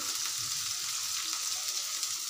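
Dried fish fries with onion and chillies in a pan, making a steady, even sizzle up close with faint soft stirring knocks underneath.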